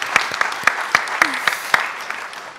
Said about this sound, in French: Oui, mérite quelques applaudissements.